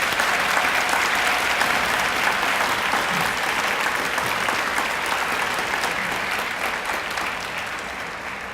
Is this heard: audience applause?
yes